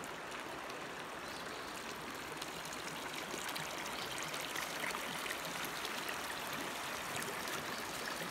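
Fresh spring water flows straight out of the ground as a steady, even rushing trickle, close and unbroken for the whole stretch, with no voices over it.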